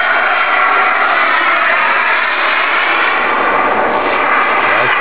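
A Rafale jet aircraft at Plerguer gives a loud, steady roar of jet noise that stays even throughout, close and unbroken.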